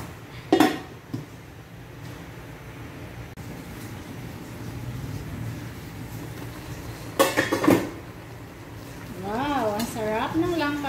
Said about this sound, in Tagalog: Yan, at hayaan lang natin yan dyan kumulo.